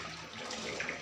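Running water pours steadily, as from a tap while washing up, a continuous soft splashing hiss with no voices over it.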